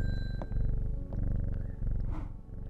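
A cat in the video game Strange Horticulture purrs steadily and loudly as it is petted, with a close, rhythmic rumble and a few light clicks on top.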